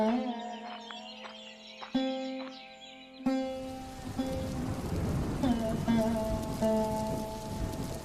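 Stormy rain falls steadily on surfaces, a dense close patter with a low rumble beneath, while a sustained musical tone plays over the first few seconds before the rain takes over.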